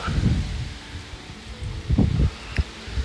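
Wind gusting through Chinese tallow tree leaves in South Central Texas, a soft uneven rustle with a few louder gusts over about three seconds and no talking.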